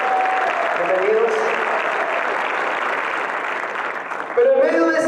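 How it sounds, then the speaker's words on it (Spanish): Church congregation applauding to welcome visiting members during a Spanish-language worship service, a steady broad wash of clapping that fills the whole stretch, with a voice speaking over it. "Damos un aplauso"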